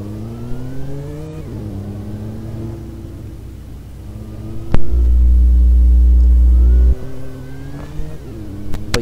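A stock car with a modified engine drives along a highway in Roblox, its steady engine tone stepping up through gear changes, with a loud low hum cutting in midway for about two seconds.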